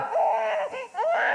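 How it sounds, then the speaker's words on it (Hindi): An infant wails close by in a tense indoor drama scene, its cries rising and falling in short, wavering bursts with a brief catch of breath midway. "बच्चा रो रहा है यार।"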